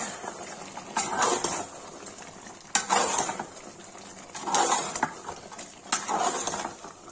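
Red chili being stirred into mutton curry in a metal cooking pot, with repeated scraping strokes of a spoon against the pot in a steady rhythm, close and fairly quiet.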